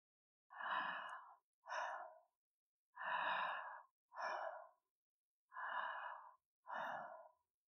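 Slow, deep breathing in and out, heard as three paced pairs of soft airy inhales and exhales with short pauses between them, close and quiet, with no talk.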